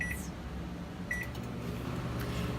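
A microwave oven cooking corn on the cob hums steadily with two short high beeps, one at the start and another about a second later.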